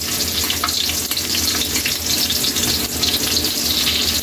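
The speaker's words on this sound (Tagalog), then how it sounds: "Kaili, ilagay na natin yung bawang, mainit na yung mantika natin." Garlic sizzles in hot cooking oil, a dense steady hiss and crackle filling the whole moment, close and loud, with a faint watery undertone, while preparing a lomi noodle dish.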